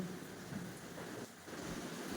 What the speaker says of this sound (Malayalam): അപാരം മഴ ആണ് ഭയങ്കര ഇരുട്ടുമാണ്